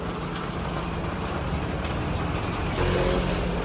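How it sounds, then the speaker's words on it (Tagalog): Steady heavy rain hisses and patters without a break, a dense wash of noise close around the listener. "lumakas na nga ang ulan"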